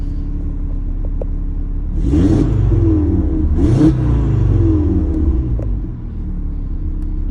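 A 2018 Audi TT RS engine idles with a deep rumble, then two quick, sharp revs, the valved exhaust barking loud and close before settling back.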